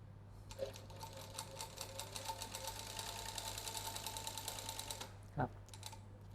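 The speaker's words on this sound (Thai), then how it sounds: "เดี๋ยวเรามาเริ่มทดลองเย็บงานดูนะครับ" A TYPICAL GC2603 cylinder bed industrial sewing machine stitches in a fast, even run for several seconds over a constant low hum, then stops, followed by a brief knock and a faint voice.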